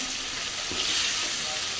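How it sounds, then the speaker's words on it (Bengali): Hilsa fish sizzles in a pan as it is fried and stirred for a kosha curry, a steady, close, loud hiss with brief stirring scrapes and no talking. "ইলিশ মাছটা তো কষানো হয়ে গেছে আজকে হচ্ছে ইলিশ মাছ কষায় রান্না করব"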